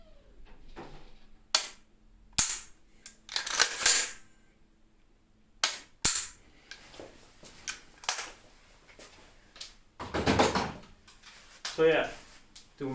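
Sharp mechanical clicks and clacks from a KWA LM4C PTR gas blowback airsoft rifle as its trigger and action are worked, close and irregularly spaced, with someone talking between them.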